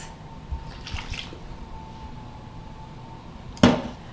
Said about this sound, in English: I'm going to now dump in the vinegar and the apricots